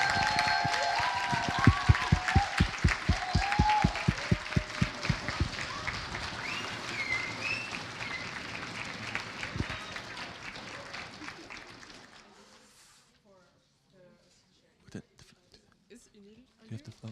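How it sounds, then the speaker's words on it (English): An audience at a Lausanne event bursts into sustained clapping that peaks early, thins out and fades away after about twelve seconds, leaving a few scattered sounds and faint talk. "So a big round of applause for the OC."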